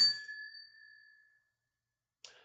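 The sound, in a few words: bell ringing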